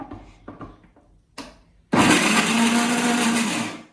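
A mixer grinder grinding sweet potato with jaggery, starting with a few light knocks and clatters before the motor kicks in with a loud, steady whirring roar that runs for about two seconds and then cuts off.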